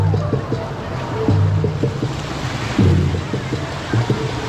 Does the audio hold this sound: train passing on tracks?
no